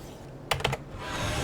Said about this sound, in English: You can also just type with your keyboard.